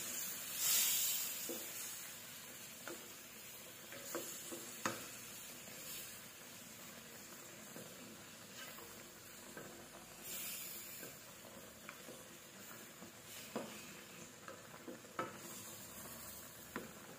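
Shrimp sauce mixed with Sprite being stirred in a hot pan, a soft steady sizzle and hiss with irregular scraping and clinking strokes of a spoon.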